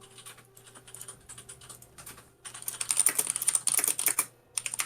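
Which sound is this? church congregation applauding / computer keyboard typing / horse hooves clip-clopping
computer keyboard typing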